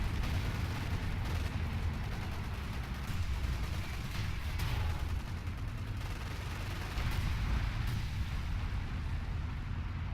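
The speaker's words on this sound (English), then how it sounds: "Flame artillery going down." Flame artillery in a Company of Heroes-style war video game, set in the Battle for Caen at Tilly-sur-Seulles, rumbles as a dense, unbroken barrage of booming blasts and crackling fire, loud and constant throughout.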